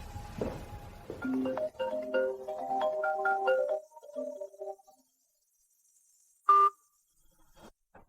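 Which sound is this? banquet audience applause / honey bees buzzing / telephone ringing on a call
telephone ringing on a call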